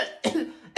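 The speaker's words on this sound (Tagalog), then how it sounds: "May ubo kasi ako." A single harsh cough from someone who is ill, close and loud, followed by a brief second burst at the end.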